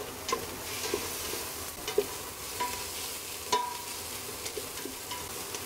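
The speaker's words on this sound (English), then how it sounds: "Give that another quick stir." Chopped onion and garlic sizzle steadily in a hot pan for seafood chowder, with a close, even frying hiss and light scrapes and taps of a spoon as it is stirred.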